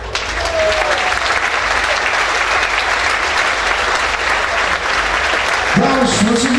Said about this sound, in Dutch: Ontvangen ze met een groot applaus Lisa Banning en Marjolein Hietberg